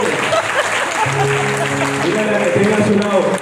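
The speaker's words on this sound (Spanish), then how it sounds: "Ese es nuestro aplauso al Rey de Reyes." A church congregation applauds in a steady, loud wash of clapping while a voice and sustained music tones carry on underneath.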